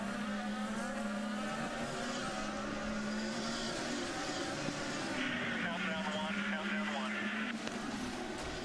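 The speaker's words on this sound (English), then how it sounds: "Here's Wilson trying to get around the slower car of Stanton Barrett, car number 98." IndyCar race cars on the St. Petersburg street and road course in 2009, a steady, loud engine drone with a rising and falling pitch as cars pass and jostle, running throughout under continuous commentary.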